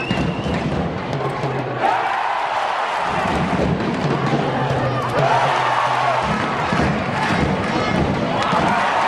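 A handball arena crowd gives a standing ovation during a men's EHF Champions League match between Kadetten Schaffhausen and Pick Szeged, a loud, sustained roar of cheering and rumbling applause filling the whole hall.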